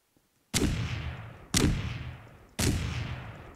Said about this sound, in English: I'll send the explosion way out